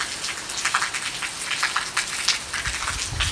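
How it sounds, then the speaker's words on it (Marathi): Heavy monsoon rain pours steadily outside, with a dense continuous hiss and scattered louder drops hitting nearby surfaces, and no talk over it. "पाऊस जोरदारच चालू आहे"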